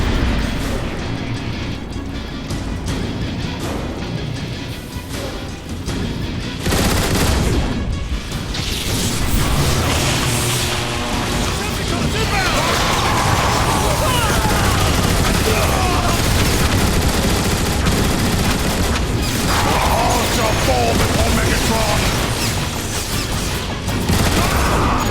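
Gunfire, blasts and crashes of combat fill the Transformers: War for Cybertron video game with a loud, dense, continuous barrage that hardly lets up. Voices are mixed into the battle noise.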